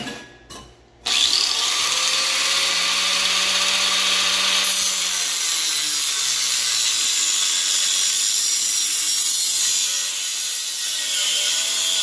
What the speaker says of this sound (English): let's see if we can cut some notches in here